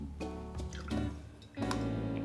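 Angostura bitters poured from an uncapped bottle into a glass, giving short dripping and trickling splashes, quiet and close, with two brief pours and no speech.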